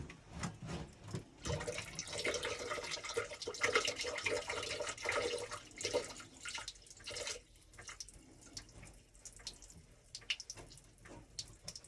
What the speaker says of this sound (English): we'll just keep it tipped up until the water stops draining